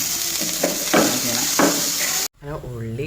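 Ground onion and tomato paste sizzles in a hot pan while cooking a fish dish, giving a steady close frying hiss with a few louder crackling surges, then a voice talks briefly at the end.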